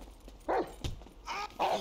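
A dog barks and yelps in GTA 5, several sharp, close bursts with a short gap between them.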